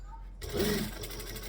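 A sewing machine stitching a garment seam within the seam allowance kicks in after a brief quiet moment, a short close whir with a voice talking over it.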